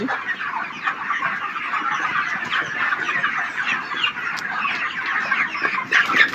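Many 42-day-old broiler chickens cluck continuously in a crowded poultry farm flock of about 3,500, a steady busy chatter of overlapping calls with no voices.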